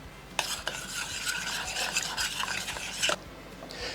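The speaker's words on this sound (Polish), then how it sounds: "bierzemy łyżkę, którą również dodajemy tutaj. I wszystko dokładnie mieszamy." A spoon stirs a yeast starter mixture in a bowl, producing close, continuous scraping and swishing, with sharper clinks scattered throughout.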